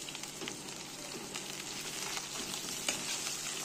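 Chopped capsicum stirred into frying onions in hot oil for Kolkata-style veg masala chowmein, a steady close sizzle with light scraping stirs and no talk.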